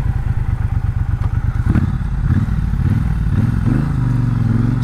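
A Triumph Bobber motorcycle is ridden, its engine throbbing in a fast, close, pulsing rumble that rises and shifts in pitch as the rider changes speed.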